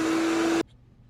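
A ShopVac vacuum switched on by a remote button runs with a loud, steady motor roar and a strong whine, then cuts off abruptly partway through, leaving near silence.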